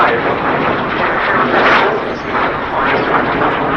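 A light attack aircraft passes at an airshow, its engine roar loud and steady with a gentle swell, while a voice talks over it.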